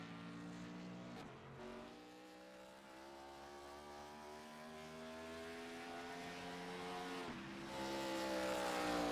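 NASCAR stock cars in a racing video game, heard during qualifying, with a loud harmonic engine whine climbing steadily in pitch as it speeds up. A sharp drop at each shift repeats twice. No talking.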